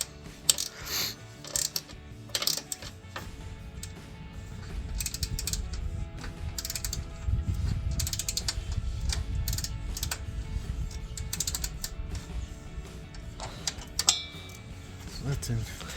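Ratcheting clicks from a wrench tightening radiator mounting bolts on a Jeep Wrangler JK, bursts of rapid mechanical clicking with brief pauses and metallic taps, with people talking nearby.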